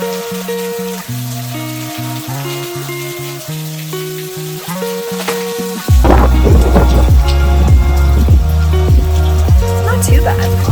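Heavy rain pours during Hurricane Elsa in Hahira, Georgia, starting abruptly as a loud dense hiss with thunder rumbling beneath, after a stretch of soft music, with a voice speaking at times.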